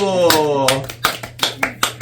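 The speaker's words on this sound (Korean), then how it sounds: "박수!" A few sharp claps ring out in a children's church worship service, spaced unevenly after a voice fades, close and fairly loud.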